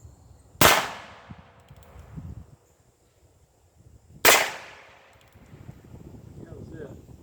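A Heritage Rough Rider .22 revolver fires two sharp, loud cracks about four seconds apart outdoors, each followed by a short ringing decay. Faint background noise fills the gaps between shots.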